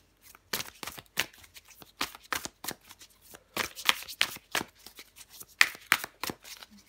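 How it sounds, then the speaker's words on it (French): Tarot cards being shuffled by hand during a February 2024 Libra reading: a run of crisp, rapid riffling bursts and flicks in an uneven rhythm, close and fairly quiet, with no talk. "je prends encore une carte pour vous, les balances"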